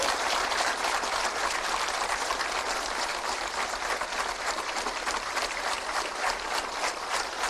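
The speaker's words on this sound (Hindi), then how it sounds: "जोरदार तालियां होनी चाहिए।" Sustained, loud applause from a large crowd at a government appointment letter ceremony, dense clapping that continues evenly throughout.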